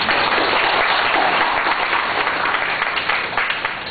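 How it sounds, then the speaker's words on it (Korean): A church congregation applauds together, a loud, dense, continuous wash of clapping that holds steady for several seconds before easing slightly. "하나님께 영광을 박수 한번 합시다"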